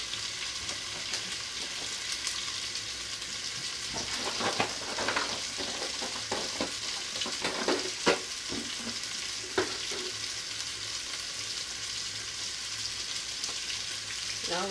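Ingredients for plantain porridge sizzle steadily in hot oil, with a few louder stirring scrapes and clatters in the middle of a continuous frying hiss.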